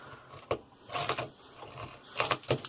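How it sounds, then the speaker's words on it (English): Screw being driven in while a robe hook is mounted to a wall, a few short ratcheting clicks and whirring bursts from the driver, close and uneven. "you can go ahead and start your next screw"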